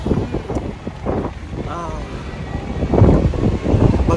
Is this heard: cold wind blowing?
yes